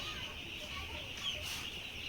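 Chicks in a poultry brooding shed give a steady, faint chorus of high peeping and cheeping that runs unbroken throughout at a low level.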